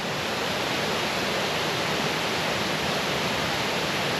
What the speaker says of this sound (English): Nice climb down, beautiful cascading waterfalls.